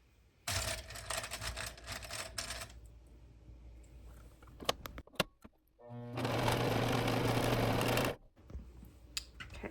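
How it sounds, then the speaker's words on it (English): A sewing machine stitches the short edges of a ballet dress neck binding together, running in two loud, steady bursts of about two seconds each, separated by quieter handling clicks and fabric rustles. "we're going to sew these together using a 1/4 inch seam allowance"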